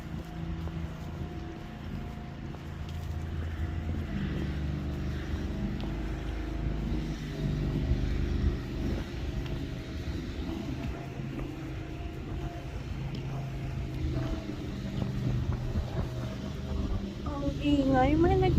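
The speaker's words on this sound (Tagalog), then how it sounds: "Ang ingay, may naggumagamit ng generator or pump." A steady, low mechanical drone runs throughout, like an engine or motor humming nearby, with wind noise on top.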